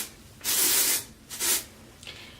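Two short hissing bursts of dry shampoo aerosol sprayed into hair close by, then a fainter third puff, with quiet pauses between.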